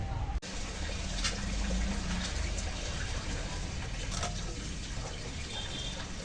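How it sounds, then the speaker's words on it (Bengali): Fish being washed in water in a home kitchen, a steady wash of splashing and running water lasting several seconds, close and fairly even, with no talk. "চলো মাছটা ধুয়ে পরিষ্কার করে আনি"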